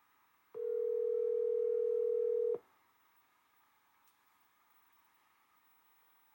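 A single steady ringback tone sounds for about two seconds while a phone call is placed, then cuts off and leaves only a low background hiss.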